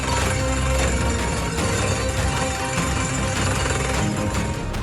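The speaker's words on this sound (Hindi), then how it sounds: "पहाड़ों में मशीनों से ड्रिलिंग की जा रही है।" Drilling machine boring into mountain rock for micropile slope stabilisation in Chamoli, Uttarakhand, a loud, continuous pounding roar that stays steady throughout, close by with no voices.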